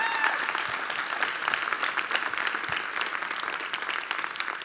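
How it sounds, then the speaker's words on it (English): An audience gives dense, sustained applause for police officers at a talk, steady and loud throughout, with a faint murmur of voices underneath. "We can clap that up."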